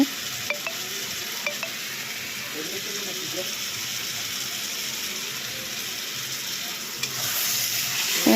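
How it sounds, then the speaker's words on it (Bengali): Sponge gourd pieces with salt and turmeric fry in a pan with a continuous soft sizzle, a few faint clicks of a utensil against the pan, and the sizzle swelling louder near the end. "নুন হলুদ দিয়ে তারপর আরও কিছু সময় ধুন্দুলগুলোকে ভেজে নেওয়া হবে"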